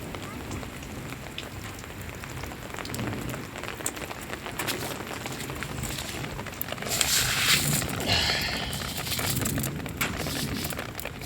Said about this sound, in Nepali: डरलाग्दो पानी परेको छ हेर्नुहोस् असिना सबै फुलहरू कुटेछ